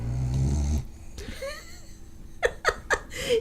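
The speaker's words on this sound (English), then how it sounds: "She's laying over here snoring." A dog lying down gives a low rumbling growl or snore after a loud start, followed by several short, sharp bursts close by.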